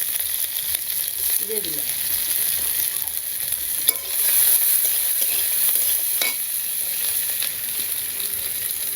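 Onion and garlic sizzle steadily in hot oil in a pan while a spoon stirs and scrapes, with a brief clatter midway and a voice speaking briefly over the frying.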